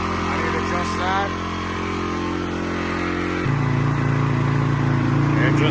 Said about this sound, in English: And just like that, you have a running dirt bike again.